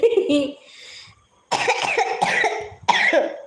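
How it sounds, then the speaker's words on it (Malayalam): A person coughs sharply a few times, loud and close, with brief pauses between bursts. "ഒന്ന് ചുമച്ചോട്ടെ"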